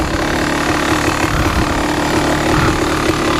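A Kawasaki KX2 motorcycle engine idles in a steady, close, unbroken mechanical drone with a constant low rumble and no pauses.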